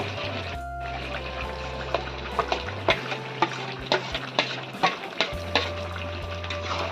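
Ginger, garlic and onion paste hits cooked-down tomato in hot oil for a Bengali country chicken curry, sizzling steadily while a spoon scrapes and knocks against the pan in repeated sharp strokes.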